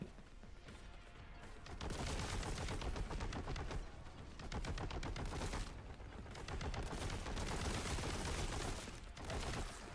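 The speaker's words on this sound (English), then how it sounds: "Ah, plasma gunners! Plasma gun!" Rapid, dense gunfire in Warhammer 40,000: Boltgun rattles in long sustained bursts with brief pauses between them, loud and close, with no talking over it.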